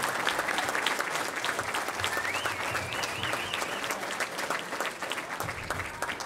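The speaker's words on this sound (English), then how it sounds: "One more round of applause for Officer Carl Farrington" Crowd applause at a gala honoring a police officer in Lawrence, MA: sustained, dense clapping fills the room at steady loudness throughout, with a faint voice briefly rising above it.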